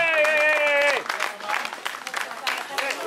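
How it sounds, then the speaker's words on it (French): A crowd at a cycling podium ceremony in La Rochelle, France applauds with dense, scattered clapping while someone talks over it. A brief tonal sound comes first, then the clapping carries on. "Applaudissements pour Jacqueline Martaille"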